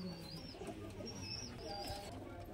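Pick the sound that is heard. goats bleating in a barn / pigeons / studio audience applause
pigeons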